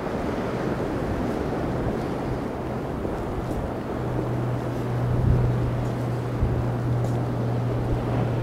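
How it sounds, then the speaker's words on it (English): Rough waves crash on Lake Ontario in a constant windy roar of surf, loud and close, with gusts buffeting the microphone and no voices. "the waves are like really crazy today"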